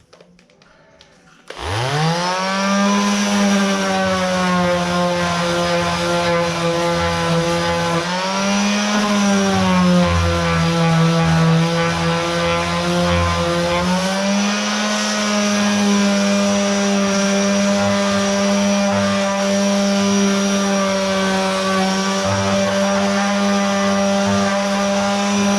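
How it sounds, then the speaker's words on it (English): Einhell orbital sander starting up and running steadily on a piece of wood, a loud continuous motor hum with a brief dip in speed as the tool is handled, close and alone. "Let's see if it works on a piece of wood. Got a nice piece of wood here. I will sand it on both sides"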